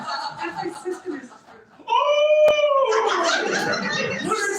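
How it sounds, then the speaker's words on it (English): A part Afghan hound dog lets out a loud, sustained howl at close range, its wavering tone rising after a few softer whimpering sounds, with people talking around it indoors. "She's part Afghan hound."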